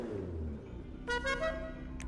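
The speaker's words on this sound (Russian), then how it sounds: "Вот такой гудок." Car horn honking in Grand Theft Auto V, one bright horn blast of about half a second over a low idling engine hum, followed by a brief second toot.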